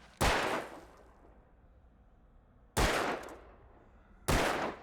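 Three loud gunshot blasts from hip-firing a gun in the game Alan Wake Remastered, spaced unevenly, each with a fading echoing tail.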